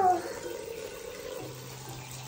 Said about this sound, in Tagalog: Sige, lagay mo tubig.